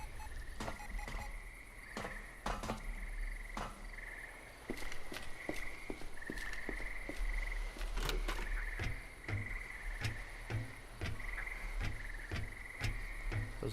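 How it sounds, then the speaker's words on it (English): Frogs croaking in the dwarf fortress game Dwarf Fortress, a steady chorus of repeated ticking croaks and clicks over a constant low ambient drone, with no talking. "Those are just the gentle sounds of frogs."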